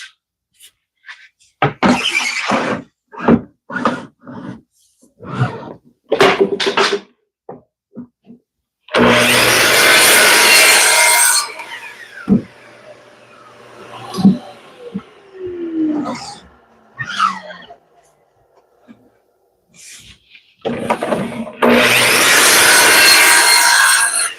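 Talk, then a sustained harsh sanding on a solid wood door, a quieter stretch of mixed scraping, and another loud burst of sanding at the end.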